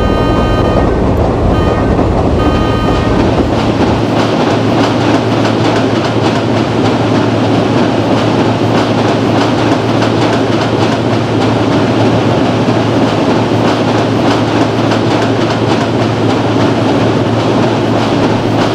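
An August Kranti Rajdhani Express in Indian Train Simulator running at about 130 km/h, with a steady, loud rolling rumble and wheel-on-rail noise that goes on throughout and is heard alone.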